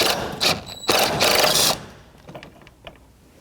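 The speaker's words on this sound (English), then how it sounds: "Now we need a socket, for a 10mm socket for 1 and 2 mounting bolts" A ratchet with a 10mm socket works on the water pump mounting bolts of a 2006-2012 Toyota RAV4: bursts of rapid clicking in the first two seconds, then fainter scattered metallic ticks, close by.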